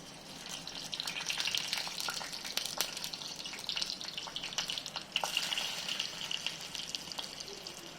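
Chopped garlic and halved green chillies fry in hot oil, giving a steady crackling sizzle with scattered sharp pops. It runs continuously at moderate loudness, with no voices.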